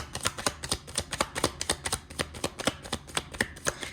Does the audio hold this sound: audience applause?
no